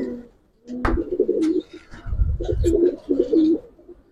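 Domestic flying pigeons of fancy breeds coo in repeated throaty, rolling phrases close by, several bursts in a row with short pauses between.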